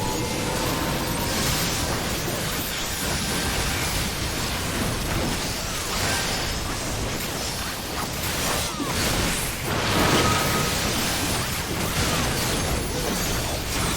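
Explosions rumble through a Final Fantasy XIV battle as a dense, continuous wash of blasts, bursts and whooshing effects that stays loud for the whole stretch, with no talking.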